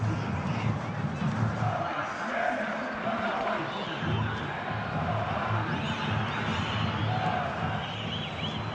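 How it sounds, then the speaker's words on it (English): Stadium crowd in a football video game, a broad steady roar of murmuring and swelling cheers filling the background, with a commentator's voice talking over it. "you can feel and hear how the crowd are reacting to all of this."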